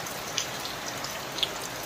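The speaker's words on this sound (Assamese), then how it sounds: "দেখিছেনে গোটেই বৰষুণ" Steady rain falling outdoors, a continuous even hiss with a few distinct drop ticks, fairly close and with no voices.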